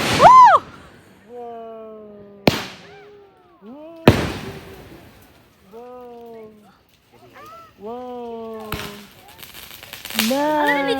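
New Year fireworks burst outside in sharp, loud bangs, several spaced cracks over the span, while people talk and exclaim in between.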